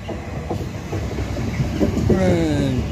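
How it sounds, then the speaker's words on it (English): A train rumbles past nearby with a rolling rail clatter and a rising tonal squeal, while someone talks over it outdoors. "and here's my train."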